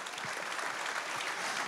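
A crowd at an awards ceremony applauds young prize winner Ismaël Oukarti, a short burst of dense, steady clapping.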